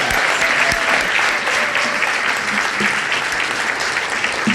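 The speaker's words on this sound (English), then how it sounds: "Let's all give them a round of applause." A steady round of audience applause for speakers at a Women's Day event in Columbus, Ohio, dense and sustained throughout.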